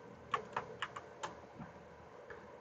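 Key presses on a computer keyboard as the shift and delete keys are hit: a quick cluster of about five sharp clicks, then a couple of fainter taps, close and quiet with no talk.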